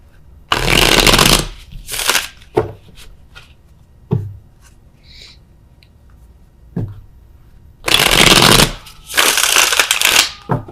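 Tarot cards shuffled by hand close up, two long bursts of riffling with a few short taps and card handling between them, no talking.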